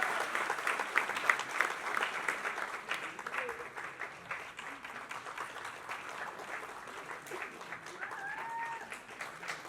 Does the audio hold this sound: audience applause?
yes